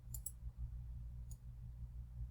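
Computer mouse clicks, two quick crisp clicks close together followed by a single click a moment later, faint over a low steady hum.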